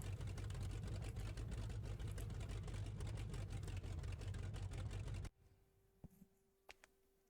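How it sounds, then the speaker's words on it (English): A flat-plane crank V8 Chevy LS engine in the BeamNG.Drive racing game runs loud and steady, with a buzzy, rapid firing drone for about five seconds before cutting off into near silence with a few faint clicks. "Now this is a weird sounding engine, right? Well, it's just a flat plane crank V8."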